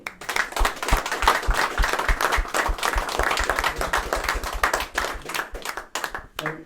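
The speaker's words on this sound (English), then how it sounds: "he deserves another round of applause" Enthusiastic applause from a sizable crowd, dense and sustained, with sharp individual claps standing out before it thins near the end.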